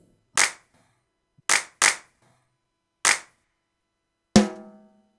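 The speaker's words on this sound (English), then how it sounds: "So that's the HD1 drum sounds." Five sharp, isolated drum hits from a Korg Kronos keyboard's HD-1 drum sounds, with short decays, played one at a time with pauses between; the last one rings with a pitched, resonant tail.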